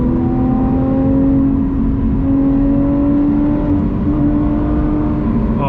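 A Lotus Evora GT mid-engine sports car rises in pitch as it accelerates in third gear, a steady close roar climbing through the gear with no voices over it.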